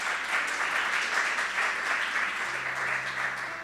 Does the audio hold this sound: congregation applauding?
yes